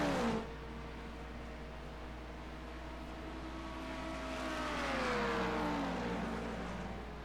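Race cars in an IMSA racing video game, a steady engine drone throughout that rises and swells in pitch midway as cars pass, then eases off, with no talking.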